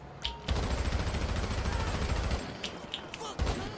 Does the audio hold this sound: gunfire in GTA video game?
yes